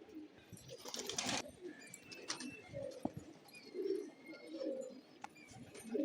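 Soft pigeon coos repeat at a distance over a steady outdoor background, with a brief rustle of flapping early on.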